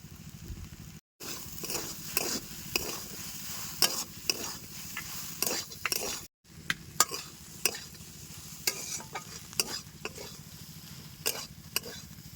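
Potato and soybean frying in a pan for village-style vegetarian cutlets, a soft continuous sizzle broken by repeated scraping stirs of a spatula at an uneven pace, with no voices.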